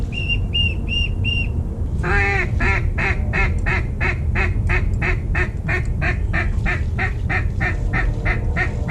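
Ducks on the water during a West Tennessee duck hunt from a boat give a loud, rapid run of repeated quacks. A few clear whistle-like notes come first, all over a steady low rumble.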